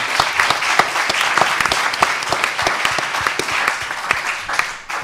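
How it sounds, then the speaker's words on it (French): A round-table audience breaks into hearty applause, close and steady with distinct individual claps standing out, continuing at full strength before thinning out right at the end. "Ben, je crois qu'on peut applaudir."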